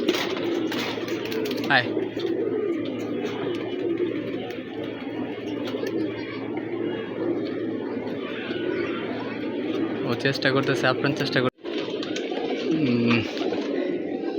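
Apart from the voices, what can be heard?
pigeons at the loft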